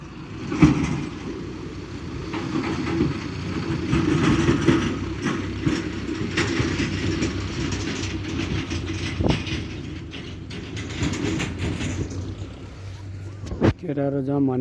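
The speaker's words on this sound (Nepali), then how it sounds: "ट्र्याक्टर" A tractor rumbles past outdoors near a stream, a steady low engine drone that swells and fades slightly, with people talking over it and a sharp knock near the end.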